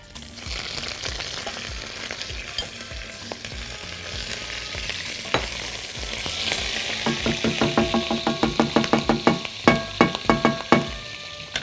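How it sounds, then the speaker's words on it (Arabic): Meat pieces frying in melted ghee (samna) in a pan, a steady sizzle that builds into a quick series of sharp crackling pops toward the end, close and fairly loud with no talk. "ورشه ملح وفلفل عليها وهي بتتحمر كده"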